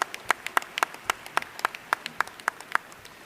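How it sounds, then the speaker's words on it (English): At an awards dinner, a thin scattering of hands claps in a loose, regular rhythm, a dozen or so distinct sharp claps rather than a full ovation, moderately near. "Give them another round of applause."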